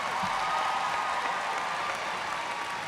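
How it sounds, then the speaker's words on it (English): Graduating high school students at a 2025 commencement receive applause, a steady, moderately distant patter of clapping from the crowd. "Can we give the students one more round of applause?"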